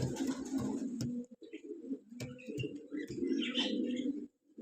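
Soft, low cooing from pigeons or doves, repeated in gentle rolling phrases, with faint rustling and light chirps in the background.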